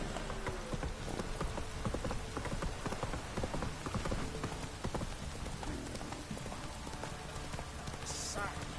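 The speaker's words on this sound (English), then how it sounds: "you can actually like go full gallop with your horse without it stopping" Horse galloping in the video game The Witcher 3, with steady rapid hoof clip-clops under a rain-like hiss, fairly loud and continuous throughout.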